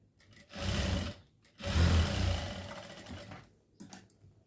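A sewing machine stitches a neckline in two steady runs, a longer burst followed by a pause, then a second long burst that slows and stops, with a brief restart at the end. The whirring motor is close and moderately loud, with no talking.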